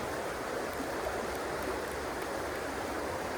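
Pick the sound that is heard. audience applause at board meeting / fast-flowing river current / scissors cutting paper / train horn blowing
fast-flowing river current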